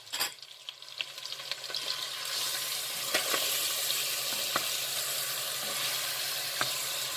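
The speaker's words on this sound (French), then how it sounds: "je vais ajouter l'oignon avec l'ail mélangé." Finely chopped onion and garlic hit a hot pan: a quiet clatter gives way after a couple of seconds to a loud, steady sizzle, with a few stirring knocks close by and no speech.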